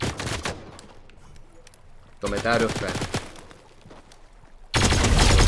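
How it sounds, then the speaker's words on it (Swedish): Gunfire bursts in the Fortnite video game: loud, dense crackling shots open the clip, return around the middle, then a heavy sustained volley at the end, with a player's voice talking between the bursts. "Ja, jag hör skottet."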